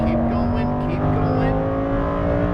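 A Lamborghini Huracan Performante accelerating hard on a race track, its engine a loud, steady rising drone with strong harmonics throughout, heard from inside the car.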